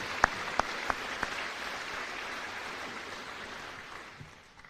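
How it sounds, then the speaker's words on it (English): Audience applause at a military change of command ceremony for the 67th Cyberspace Operations Group, a few sharp distinct claps up front, then a moderate sustained patter of clapping from a seated crowd that gradually fades out. "I'd like to get another applause for that outstanding national anthem and the invocation"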